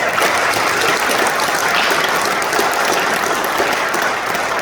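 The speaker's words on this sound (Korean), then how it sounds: "격려의 박수 다시 한번 부탁합니다" A church congregation applauds in encouragement for newly ordained elders and deacons at an ordination ceremony, a dense, steady wash of many hands clapping, loud and close throughout with no voices over it.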